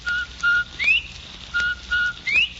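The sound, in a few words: whistle imitating a bobwhite call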